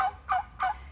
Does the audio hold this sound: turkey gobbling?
yes